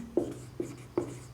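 Three short, distinct strokes of a pen or chalk writing by hand during a maths lesson, close and fairly quiet, evenly spaced.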